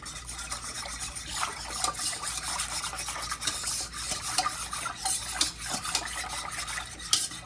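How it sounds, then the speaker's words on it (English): A whisk stirs pectin into chokecherry juice in a pot, making a continuous quiet scraping and swishing with uneven strokes and occasional sharper ticks against the metal. "we just want to take a whisk and whisk it in there until it's completely dissolved"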